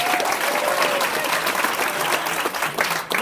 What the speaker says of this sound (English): Give the round of applause for Steph.